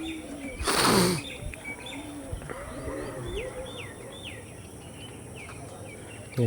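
Large-winged single-feather-tail pigeons make soft coos and chirping calls in an enclosure, with a brief loud flurry of wing flapping near the start and scattered faint clicks beneath.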